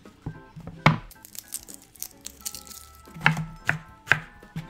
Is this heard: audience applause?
no